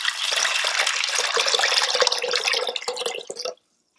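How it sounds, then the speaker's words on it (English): Water poured into an Instant Pot holding washed daal and methi, a loud close splashing gush lasting about three and a half seconds before stopping abruptly. "you're gonna add water"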